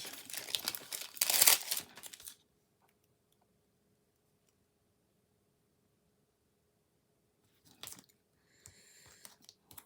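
Paper being cut to size for handmade card making, with a burst of crisp crinkling, snipping handling noise at the start, then a long quiet stretch before a few faint rustles near the end.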